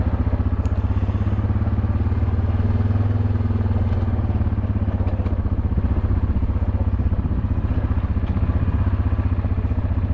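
An ATV engine drones steadily while riding an advanced off-road trail, a loud, even rumble with a rapid pulsing beat and no talk.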